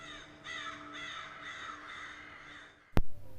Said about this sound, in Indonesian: melihat burung-burung berterbangan